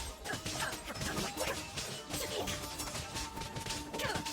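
A crashing, shattering attack effect sounds in the video game Genshin Impact, with repeated sharp smashing bursts and glassy crackles layered over dense game sound effects.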